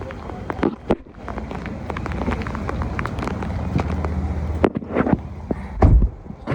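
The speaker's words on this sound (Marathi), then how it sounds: "लय जोरात पाऊस आलेला" Heavy monsoon rain pours down outdoors by a car under a darkened sky, a dense close rush of noise broken by sharp irregular knocks and thumps of drops striking nearby surfaces.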